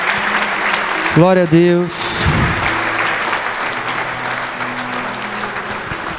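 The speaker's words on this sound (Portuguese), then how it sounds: "Vamos aplaudir o nosso Pai." A church congregation in Brazil bursts into sustained applause, a thick wash of clapping that fills the room while a voice speaks briefly over the start.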